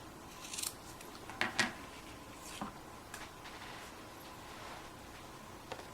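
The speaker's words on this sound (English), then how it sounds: "I'm going to trim the ends of the ribbon off." Scissors snip the ends of a paper-crafting ribbon after tying a bow, giving a few quiet, close cuts around the first two seconds and one more later, with faint room noise between.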